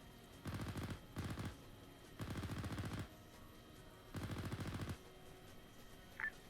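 Bursts of automatic gunfire from the military shooter game Arma III, four rapid volleys of a few seconds each separated by pauses, moderately loud over a low background with a brief click near the end.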